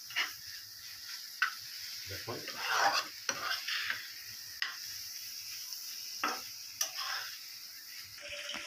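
Egg fried with chichinga (snake gourd) in a Bengali village kitchen, stirred in a pan with a utensil: steady sizzle with scraping and clinking strokes, close up; a voice speaks briefly.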